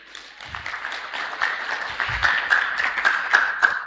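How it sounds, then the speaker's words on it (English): A scientific conference audience applauds, scattered claps building into steady, moderately loud applause that swells toward the end. "She deserves a better clap."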